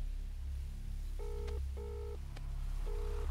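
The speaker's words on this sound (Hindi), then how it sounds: "उन्हें फोन करके मुझे पूछना पड़ेगा" A telephone being dialed, giving a few steady tonal beeps in short bursts with gaps between them, moderately loud over a low background hum.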